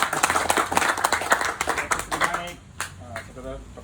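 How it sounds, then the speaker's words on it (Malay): Lively audience clapping for a political candidate at an evening gathering, quick close claps mixed with crowd voices that taper off toward the end, with people talking over the final moments. "Beri tepukan kepada calon kita."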